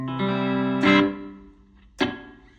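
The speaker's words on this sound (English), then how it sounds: "listening to the tail of the reverb" Electric guitar notes played through reverb on a Donner Arena 2000 multi-effects pedal: a sustained chord rings out into a bright decaying tail, then a sharper pick attack near the end blooms and fades.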